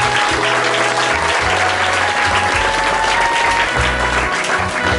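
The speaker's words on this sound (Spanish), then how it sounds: "Yo quiero que le den un fuerte aplauso a ese comité." A large crowd at a sports hall of fame ceremony gives the committee a loud, sustained ovation, a dense and continuous wash of clapping with low rumble underneath.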